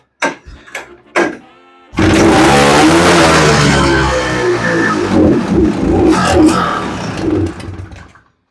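The engine of a first-generation Honda Odyssey FL250 buggy sputters through a few short blips, then the throttle is held open for a loud, sustained, rough revving roar lasting several seconds before cutting off.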